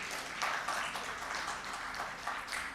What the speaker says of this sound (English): needs a big applause.